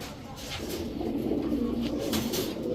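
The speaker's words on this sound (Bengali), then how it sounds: "এখন দেখাবো ছাড়াছাড়ি করা এক জোড়া চিলা কবুতর।" A mated pair of Chila pigeons, male and female, cooing close by in a pigeon market, soft repeated coos over a steady low hum of background noise.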